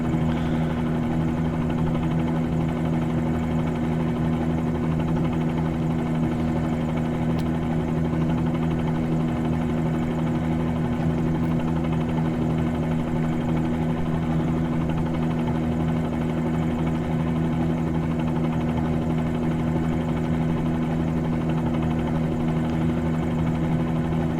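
A loud, steady drone of engine and rotor hum from a Bell 47G-2 helicopter in Microsoft Flight Simulator runs unbroken throughout, with no voices.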